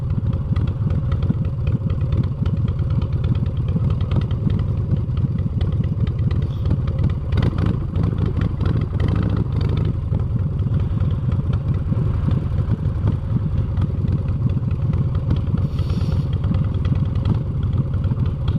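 A motorcycle engine drones steadily while riding through busy traffic, close and loud throughout, with mechanical clatter and slight throttle variations but no talking.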